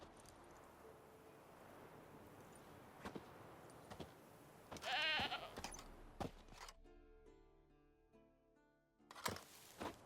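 A goat tied to a stake as forktail bait in The Witcher 3 gives a short, fairly faint bleat amid game ambience with scattered clicks and knocks.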